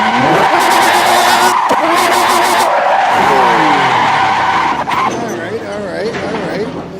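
A car skidding along a road in a racing video game, heard as a loud sustained tire squeal over revving engine noise with a brief dip midway, while a voice talks underneath.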